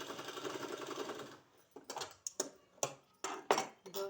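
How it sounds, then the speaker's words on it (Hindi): A sewing machine stitches a sleeve seam, starting with a steady whirring run and then giving way to short, sharp bursts of stitching, each a quick clattering pulse, close and moderately quiet. "अब यहाँ हमको सिलाई लगाना है दूसरा वाला"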